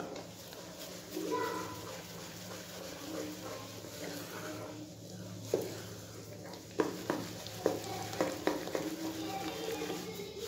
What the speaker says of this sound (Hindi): इसमें बिल्कुल लम्स ना पड़े इसलिए मैं थोड़े थोड़े से बैच में इसको मिक्स कर रही हूँ।